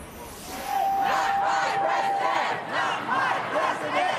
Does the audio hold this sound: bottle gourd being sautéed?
no